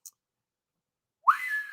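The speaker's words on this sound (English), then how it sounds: "how about the whistle?" A person whistles a single clear note that rises and then holds steady, close and fairly loud, entering after more than a second of near silence.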